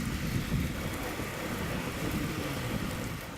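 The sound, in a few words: heavy rain while cycling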